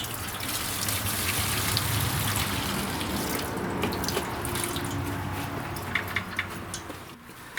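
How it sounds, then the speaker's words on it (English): Gasoline draining out of a lawn mower with a broken engine block bolt, a steady liquid pour and trickle running continuously at close range, thinning toward the end into a few separate drips. "And I'll drain all the gas out of it."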